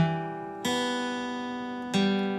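A sustained electric guitar phrase with clear held notes changing twice, bright and ringing, played alone at a moderate pace.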